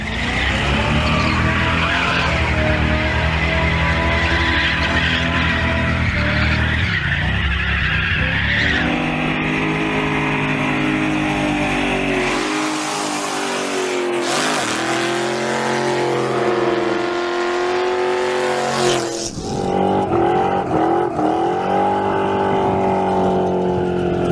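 A car doing burnouts beside the U.S. Penitentiary sign at Lone Pine: a loud, sustained engine roar with rising revs and harsh tire squeal, with no break in the noise.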